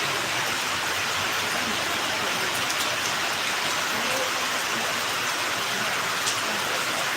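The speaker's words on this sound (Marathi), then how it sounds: "पाऊस पडत आहे पाऊस पडत आहे" Steady rain falls on surfaces outdoors, a dense continuous hiss with scattered drops, unbroken and fairly loud throughout.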